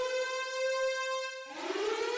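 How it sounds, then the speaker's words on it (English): A tornado siren wails in a steady, sustained tone that holds for over a second, then drops and begins to rise again, loud and alone with no voices. "Did you hear the tornado siren?"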